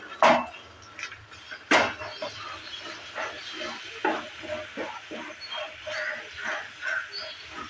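Potatoes are stirred and fried in a pan for a Bengali vandi chorchori, with irregular clattering scrapes of a spatula against the pan over a soft frying sizzle. Two louder knocks come near the start.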